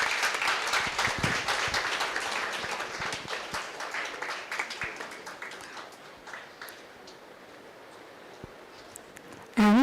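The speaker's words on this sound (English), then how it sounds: "Please give her a round of applause." An audience at an education institute event gives a round of applause, dense clapping that slowly thins and fades toward the end, followed by a brief loud noise at the very close.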